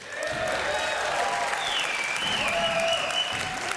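A live esports crowd at the Clash of Clans World Championship finals applauds and cheers, a dense steady wash of clapping with whoops rising over it, close and loud throughout.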